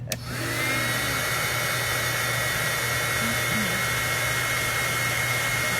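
Heat tool blowing steadily at close range while a handmade watercolor birthday card is warmed, a continuous airy roar with a low hum starting after a brief click.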